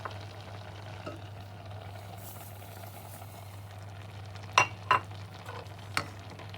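Tomatoes, apples and sugar with lemon juice cooking in a pot over low to medium heat for tomato jam, a soft steady simmer under a low hum, with a few brief scraping stirs near the end.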